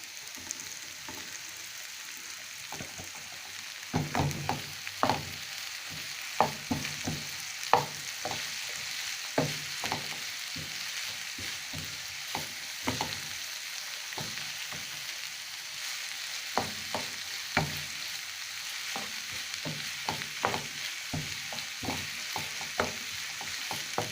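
Broccoli fries in a pan with a steady hiss, broken by frequent sharp clicks and scrapes of stirring spread across the whole stretch, with no voices.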